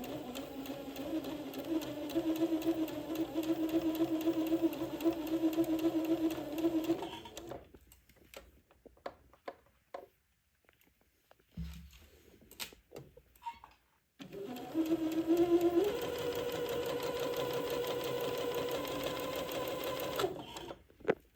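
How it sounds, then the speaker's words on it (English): A sewing machine stitches seams on an antique baptismal gown, whirring in steady rapid bursts up close, pausing midway amid quiet handling noises, then starting up again and running on. "let me keep sewing on the first 2 seams"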